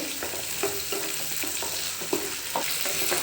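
Tomato goes into a sizzling pan of capsicum curry, with steady frying hiss and a few sharp stirring scrapes and knocks close by, no voices.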